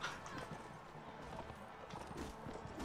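Horse hooves galloping in the medieval battle game Mount and Blade: Warband, a fast, quiet clip-clop under busy battle noise.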